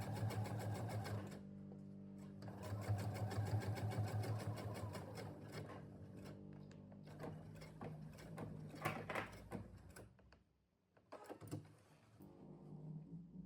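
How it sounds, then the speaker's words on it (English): A sewing machine top stitching the fly facing of shorts with a zip fly, running in steady close whirring bursts with a pause and a few handling clicks near the end. "top stitch the fly facing to the front, but only on this straight line here"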